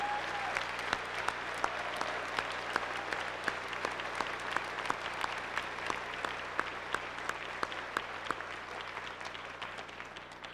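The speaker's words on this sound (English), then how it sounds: "Let's give them a round of applause, please." Crowd at a Navy recruit graduation review at Great Lakes applauding the recruits' mothers, a dense, even round of clapping with sharp individual claps popping out, sustained throughout at moderate distance in a large hall.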